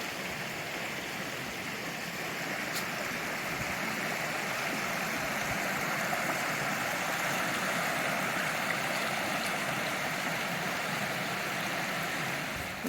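Pine Creek in Prompton State Park running high, a constant broadband rush of flowing stream water, steady and fairly close, with no voices over it.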